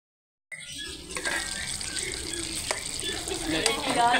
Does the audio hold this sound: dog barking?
no